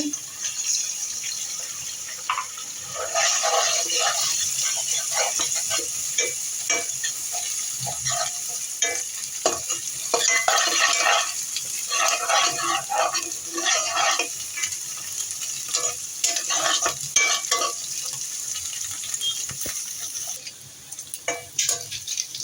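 Egg and carrot fry in hot oil in a pan while making pasta, giving a steady crackling sizzle broken by frequent scraping stirs and clinks throughout, with no talking.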